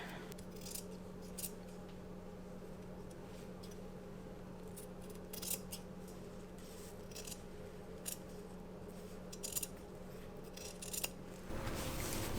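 Scissors trimming tape along a sewn garment seam to a scant quarter inch, a series of soft, scattered snips and rustles over a faint steady background hum, close but quiet.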